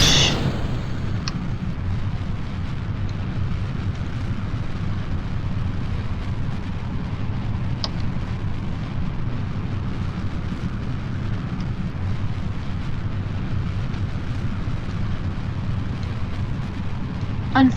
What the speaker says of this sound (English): So, we're gonna set the throttle to full and launch.